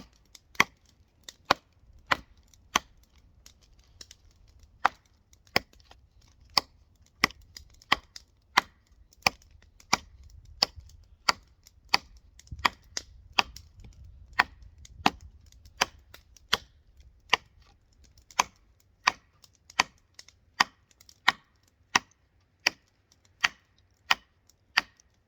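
Ontario Bushcraft Field Knife with a 5160 steel blade chopping wood in a wear test, sharp, evenly paced knocks repeating steadily for the whole stretch over low background rumble, with no talking.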